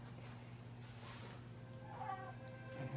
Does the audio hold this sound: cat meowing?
yes